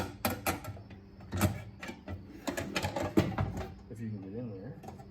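Pliers bend a knockout cover back and forth on an electrical spa pack box, giving a series of close metallic clicks, scrapes and clanks with brief pauses, and someone talking intermittently over it.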